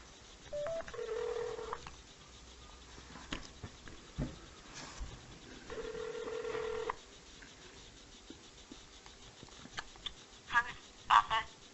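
A phone call rings out over speakerphone, with two long repeated ringback tones separated by a pause, followed by brief electronic chirps. No one speaks.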